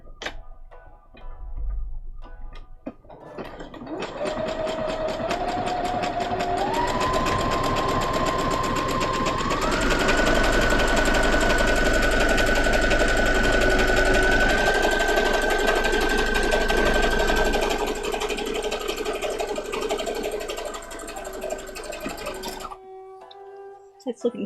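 A sewing machine stitches cosplay fabric in one long, continuous run, its motor hum climbing in pitch in several steps as it speeds up, then stopping abruptly after about twenty seconds.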